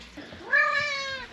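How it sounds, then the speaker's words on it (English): A cat gives a single drawn-out meow at close range, rising then falling over about a second, heard alone indoors on a homestead with no talk. "Oh, did you hear the cat?"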